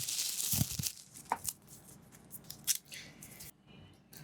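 Packaging of a Baseus GaN2 Pro 100 W charger being opened, with a few sharp cuts and tearing, crinkling bursts, fairly quiet and close.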